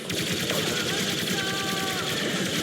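Rapid blaster fire in the Star Wars Battlefront II campaign, a continuous dense barrage of loud shots with whining energy tones running underneath, steady throughout with no pauses.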